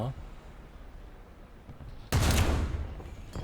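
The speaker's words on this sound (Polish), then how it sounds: "No, bardzo szczęśliwy strzał." A tank gun fires in the War Thunder video game, a single sudden heavy boom with a rumbling tail after a quieter stretch, with someone talking over it.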